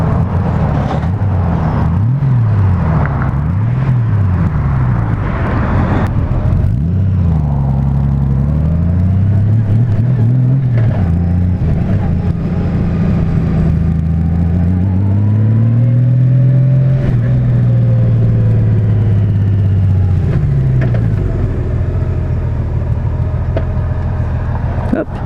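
A 2018 Honda Goldwing bagger motorcycle engine rumbles steadily and loudly up close, its pitch rising and falling as it revs and pulls away, with a voice talking over part of it.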